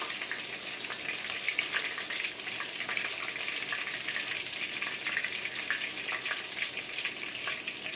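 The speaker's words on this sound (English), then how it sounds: "get those shrimp out the grease" Beer-battered shrimp fry in hot grease in a cast iron skillet with a loud, continuous crackling sizzle and bright popping spatters, steady throughout with no voices.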